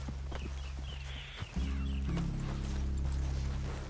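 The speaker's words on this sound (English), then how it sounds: "You best get that horse under control." Horse in the Red Dead Redemption 2 video game, hooves clip-clopping steadily at close range with a low rumbling game ambience underneath and a brief knock midway.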